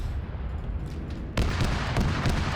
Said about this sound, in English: He's cluster bombing those spots.